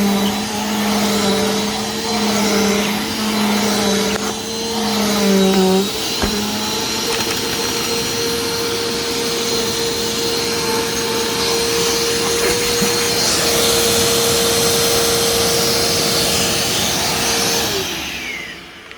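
A Mainstays vacuum cleaner runs continuously in a living room, a loud steady whine with a strong motor hum whose pitch dips briefly before settling and then drops away as it shuts off at the end.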